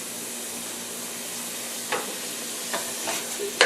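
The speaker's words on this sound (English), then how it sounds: "right now I'm browning up the ground beef" Ground beef browning in a pan on a high burner, a steady sizzle and hiss with a few scraping stirs near the end.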